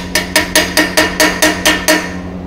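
A chipping hammer knocks slag off a shielded metal arc weld in a workshop, nine sharp metallic taps in a steady, quick rhythm, close and loud, over a low electrical hum.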